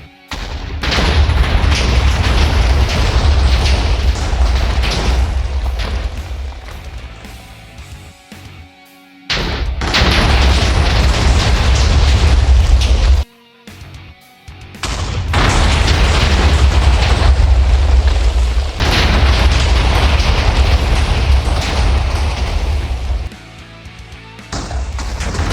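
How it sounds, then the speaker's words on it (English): Massive explosion sound effect of the whole world blowing up, long roaring blasts with deep rumble, broken by short silent gaps, loud and close. "Dr. Orange imagined the whole world exploding"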